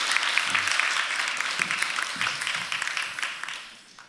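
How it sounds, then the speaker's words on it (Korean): Congregation applauding warmly during a Sunday church service, a dense wash of clapping that starts full and gradually fades toward the end, with faint voices beneath. "우리 인사할 때 뜨거운 박수로 환영하겠습니다"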